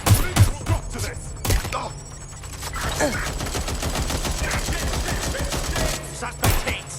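Gunfire in Watch Dogs: Legion, sharp loud shots cracking in bursts at the start and end with rapid continuous firing between, close and punchy over game ambience, with a voice speaking partway through.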